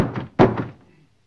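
A fist thumps heavily on a wooden door a few times in quick succession, close and dull, with no voices.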